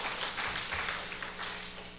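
A congregation applauds a pastor after a sermon at a church service, a dense, even patter of many hands clapping that fades slightly toward the end.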